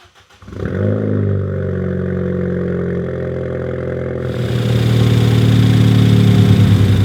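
A track car's engine cranks and catches, then settles into a steady idle that grows louder and rougher toward the end, close by with no speech.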